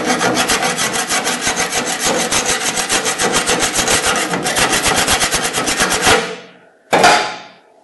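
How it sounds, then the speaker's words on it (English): A hand file strokes rapidly and evenly across the painted steel quarter panel of a 1969 Oldsmobile, a loud, close, raspy scraping that stops near the end before one final short stroke. "on this side we'll be taking the paint off with the file as well"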